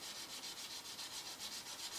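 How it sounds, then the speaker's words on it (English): A coin ring's edge is rubbed back and forth on 600 grit sandpaper laid on a table, giving a soft, rhythmic scratchy swish repeated steadily about eight times, quiet and close with no voices. "I like to go ahead and start the smoothing of that as I just take my 600 grit sandpaper."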